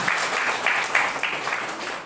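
A church congregation claps together in a brief, even burst of applause, moderately loud and somewhat distant, lasting about two seconds.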